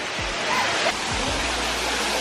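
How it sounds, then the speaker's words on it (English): A waterfall at Gozalandia Falls in Puerto Rico roars in a constant, full rush of falling water close by, with a couple of low bumps from the handheld microphone. "here we got the second waterfall"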